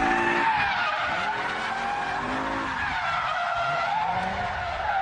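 Sustained tire squeal from a BMW M5 E60 pushed hard on a race track, understeering at high speed with a snap of oversteer at the end, the shrill skid layered over a steady roaring engine, loud and continuous throughout.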